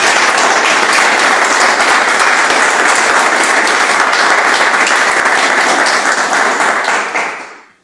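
Steady, dense applause from a church congregation during a doctrine service, loud and sustained for several seconds before fading out at the end, with no talking over it.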